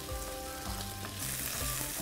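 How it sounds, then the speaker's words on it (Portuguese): Chicken hearts fry in a pan with a steady, close sizzle and crackle, with faint stirring scrapes and no talk. "vamos deixar a panela trabalhar, fritar bem esse coração"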